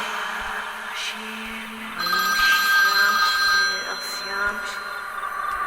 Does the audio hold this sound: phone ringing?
yes